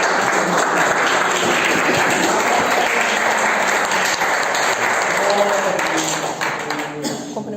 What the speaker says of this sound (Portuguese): Senhor com as palmas bem fortes